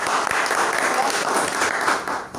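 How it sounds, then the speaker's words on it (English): Audience applause at a Toastmasters club meeting, a steady dense wash of many hands clapping throughout, fairly loud and close, with some voices mixed in. "These people need a big round of applause"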